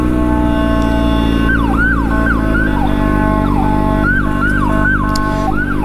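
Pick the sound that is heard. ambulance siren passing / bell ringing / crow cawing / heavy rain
ambulance siren passing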